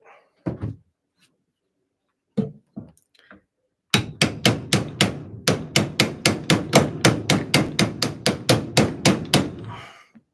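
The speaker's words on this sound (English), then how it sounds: "you can't see it while you're trying to hammer it in place." A part is hammered into place, first with a few scattered knocks, then a fast, steady run of about twenty sharp, loud metallic blows at close range.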